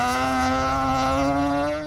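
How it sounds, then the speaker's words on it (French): A Mazda rotary-engine historic rally car drives past on the Morocco Historic Rally 2023, its engine giving a loud, steady, buzzing drone with strong harmonics for about two seconds, close by, with no talk. "quelques belles machines comme la Mazda à moteur rotatif de Frédéric"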